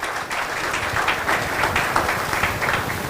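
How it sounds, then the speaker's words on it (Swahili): An audience at a Nairobi book launch claps for author Dickson Muli, a continuous, close round of many hands clapping for a few seconds. "Makofi kwake"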